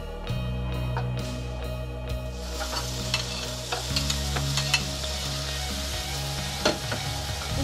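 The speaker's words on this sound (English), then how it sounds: "And then I'm going to stir it." Chili paste sizzling and frying in a hot pan while being stirred, with a steady loud crackle, scraping utensil clicks and a low hum underneath.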